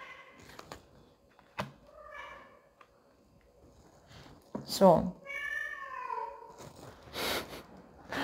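A house cat meows several times in drawn-out, wavering cries, fairly faint in a quiet room, with a short word of speech mixed in.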